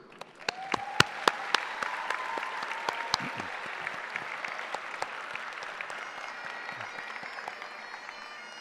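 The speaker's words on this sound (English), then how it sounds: "Please give a round of applause to the platform party and to our bagpipe artist" An audience at a university new student convocation applauds the platform party and a bagpipe player, a dense burst of clapping that starts sharply, then holds steady and slowly thins over several seconds, heard from within a large hall.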